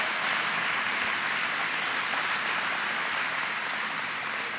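An audience applauds Governor Cuomo with steady, dense clapping that holds at an even level from start to finish, sounding somewhat distant, with no voices on top.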